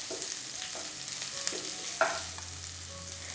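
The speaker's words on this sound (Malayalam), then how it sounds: "പച്ചമുളകും ചേർത്ത് കൊടുത്തിട്ട് വീണ്ടും ലൈറ്റായിട്ട് ഇതുപോലെ ഒന്ന് വഴറ്റി കൊടുക്കാം." Garlic and green chillies sautéing in a pan for veg chowmein, a soft continuous sizzle with several scraping strokes of a spatula against the pan, close and moderately quiet, a low hum entering later, no voices.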